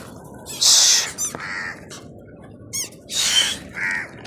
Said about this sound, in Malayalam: കാക്ക കുട്ടികളാണ്